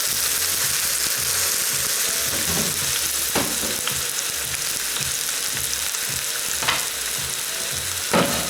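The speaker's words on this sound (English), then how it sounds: "It's going to sear for probably 3 to 4 minutes on each side until I get a really nice browning" Pot roast beef searing in an Instant Pot, a loud, steady close sizzle with occasional utensil clicks and scrapes as the meat is handled.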